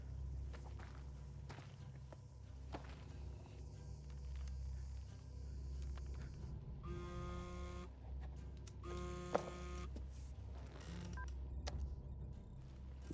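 Dialing tones from a phone keypad sound in two short bursts of beeps amid a quiet room with faint footsteps and low rumble, no voices.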